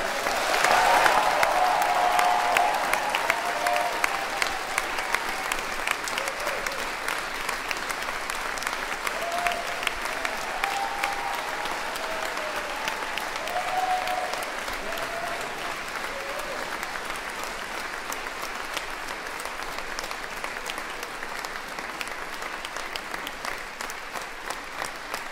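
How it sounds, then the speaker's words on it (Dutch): A concert audience at a winter performance by a wind band gives long, sustained applause, dense and even clapping that slowly tapers, with a few scattered voices calling out beneath it. "Groot applaus!"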